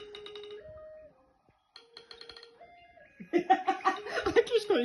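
Phone alarm tones play as repeated electronic beeping melodies with short pauses, growing louder and busier toward the end, with people laughing and talking alongside.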